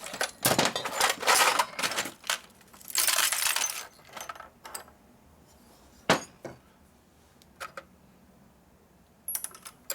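Steel ball bearings from the cage of a 1937 Harley-Davidson ULH knucklehead four-speed transmission are dropped into a pan. Dense bursts of metallic clattering and chinking come first, then thin out into a few scattered, separate clinks.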